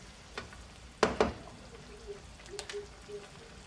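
Turmeric adobo being stirred in a pan gives a few soft scrapes and knocks of a utensil, one sharper clatter in the middle, over a quiet, low sizzle, close and faint.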